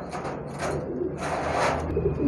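A Rampuri female pigeon coos close by, a few soft, throaty rolling calls over a low background rumble.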